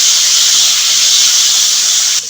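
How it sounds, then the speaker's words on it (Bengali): Garlic paste hits hot oil in a pan, giving a loud, close, continuous hiss of sizzling that drops slightly near the end. "বাটার রসুনটা আমি একটু ভেজে নেবো"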